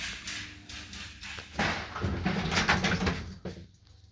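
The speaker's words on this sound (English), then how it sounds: "Doors closing." Lift doors on a Premier Lester modernised lift in an office building slide shut with a soft rumbling whoosh that ends in a light thud, heard close up over a faint low machinery hum, with no talking.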